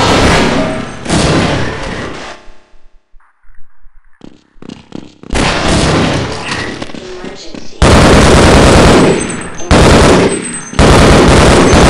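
Automated turret in Half-Life firing loud, sustained bursts of machine-gun fire, broken by short pauses and a quieter stretch of scattered shots and thuds, with a player's voice talking over parts of it.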